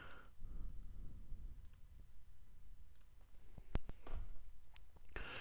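Mouse clicks at a computer while working in Mocha AE within Adobe After Effects CS6, a few sharp isolated clicks over a quiet room hum, close and crisp, no speech.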